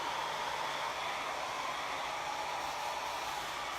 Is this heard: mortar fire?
no